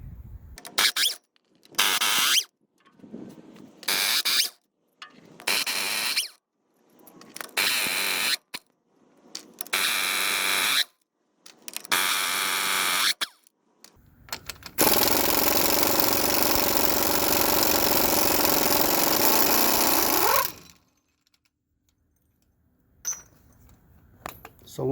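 A power tool spins off the axle nuts on a semi truck, eight nuts taking a 15-16 socket, in loud repeated bursts of whirring and rattling followed by one long sustained run, then near silence.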